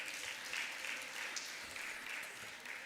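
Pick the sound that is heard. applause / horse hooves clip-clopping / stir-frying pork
applause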